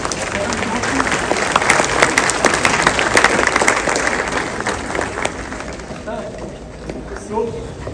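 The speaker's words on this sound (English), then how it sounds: "And a huge round of applause, ladies and gentlemen, for the release of this report" Audience applause at a business conference report release, sustained crowd clapping that gradually thins out, with a voice speaking over it.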